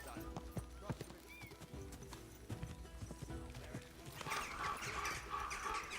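Horse hooves gallop in a rapid, rhythmic clip-clop in the medieval game Kingdom Come Deliverance 2, running steadily under game voices and ambient sound, growing busier and louder toward the end.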